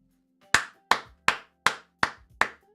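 Six sharp hand claps land one after another at an even, brisk pace, each loud, close and standing alone with no talk over them.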